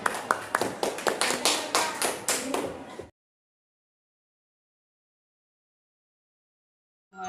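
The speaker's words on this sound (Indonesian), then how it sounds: "Tepuk tangan ya Bapak Ibu." A small group claps for about three seconds, quick bright hand claps at moderate volume, fading into silence.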